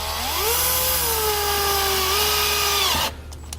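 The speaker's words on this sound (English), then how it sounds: "We'll take a 5/16 drill bit to drill our holes." A power drill with a 5/16-inch bit whines steadily at close range, its pitch rising and dipping slightly as it bores holes, then cuts off abruptly near the end.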